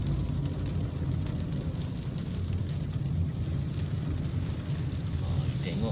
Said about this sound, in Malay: Baru hari ni hujan my friend.